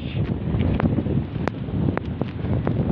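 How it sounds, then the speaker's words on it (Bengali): Strong gusting wind out on the water buffets the microphone with a loud, rough rumble that surges and dips, and a few sharp knocks sound over it. "ওরে ভাই কি বাতাস"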